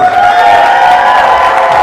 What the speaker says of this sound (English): A nice round of applause for Yash one more time.